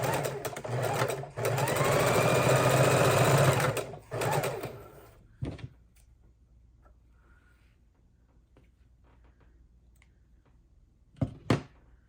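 A sewing machine stitches quilt block pieces in a loud burst lasting about four seconds, then stops; faint clicks and handling noises follow in near silence.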